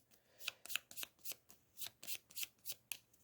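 A deck of cards for the board game Final Girl is riffle-shuffled in close, crisp bursts, about a dozen quick papery riffles in steady rhythm, with no voices.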